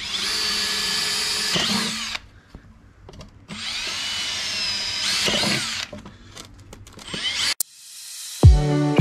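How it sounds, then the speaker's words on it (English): A power drill boring holes in octopus shelter pots, loud close whining bursts in several runs separated by pauses, ending with a clunk and rattle. "Now it's time to drill."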